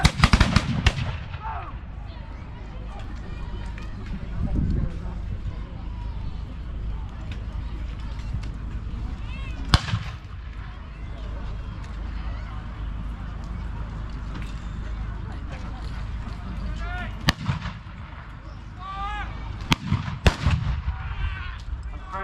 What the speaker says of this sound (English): French guns still opening fire